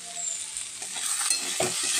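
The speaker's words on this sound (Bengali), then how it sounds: "আলু ভাজা।" Potatoes fry in a pan with a steady, close sizzle and a crackling hiss, while a utensil stirs them with a few soft scrapes. No voices are heard.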